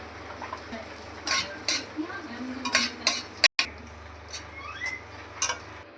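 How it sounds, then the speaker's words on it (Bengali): Raisins fry in a little ghee in a wok under a soft, continuous sizzle, broken by several sharp metallic clinks and scrapes of a spoon against the pan. "ভেজে নেবো কিশমিশ,"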